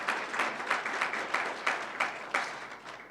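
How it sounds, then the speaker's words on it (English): An audience at a corporate event claps for a sponsor coming to the stage, a fairly quiet, moderately dense round of applause with individual claps standing out rhythmically. "Everyone, round of applause."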